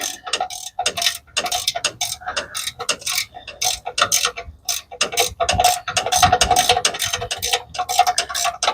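A fastener on a Saginaw power steering pump is backed out with a ratchet during a rebuild, a loud, close, rapid run of clicking pawl ticks that continues steadily with brief pauses.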